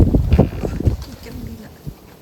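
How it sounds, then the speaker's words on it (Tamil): Strong gusty wind blows outdoors during heavy snowfall, a rough low rumble buffeting the microphone and easing toward the end, with muffled voices mixed in. "சரியான ஸ்னோவும் காற்று"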